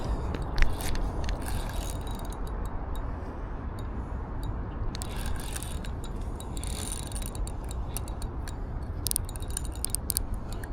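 A fishing reel's drag clicks in a rapid, continuous ratcheting as a big carp pulls line on a river, with a few louder bursts of clicks over steady outdoor noise.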